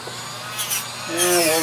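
A rotary tool with a small green sanding wheel grinds on a chess bishop, a close, steady high-pitched whine that rises in pitch and loudness partway through, running under a voice talking.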